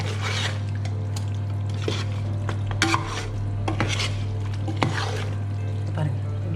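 Chicken biryani gravy being mixed in a pot, with repeated soft scraping strokes of a spoon against the metal over a constant low hum, the stirring close and moderately quiet.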